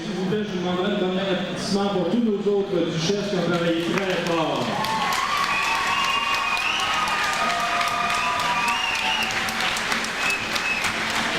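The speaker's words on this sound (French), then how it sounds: "je vous demanderai de donner un applaudissement pour tous nos autres duchesses qui ont travaillé très fort" Audience at the 1995 Saint-Anselme countryside barbecue festival applauding the duchesses, steady crowd clapping that swells after someone speaks over a microphone, continuing loudly to the end.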